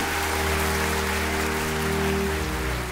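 An audience applauds a performer on stage with a dense, steady wash of clapping that holds loud and even throughout.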